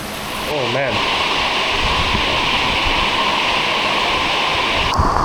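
Strong spray of warm water hitting cold concrete on a cold day, a loud steady broadband hiss close to the microphone that starts after a brief voice and holds at an even level throughout.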